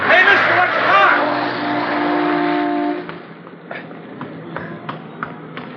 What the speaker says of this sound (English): I thought sure you were going to get hit by that car.